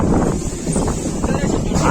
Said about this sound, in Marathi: आज हवा भरपूर आहे